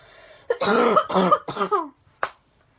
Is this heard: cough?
yes